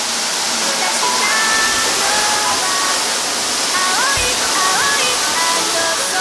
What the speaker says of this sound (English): As you can hear, we're very close to the waterfall now